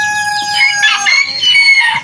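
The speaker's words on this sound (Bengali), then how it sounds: "আমাদের খামারের সবচেয়ে বয়স্ক মুরগি এইটা" An old Brahma hen, over six years old and the eldest on the farm, clucks and calls close by in a short loud burst of repeated squawks, with other fowl sounding in the background.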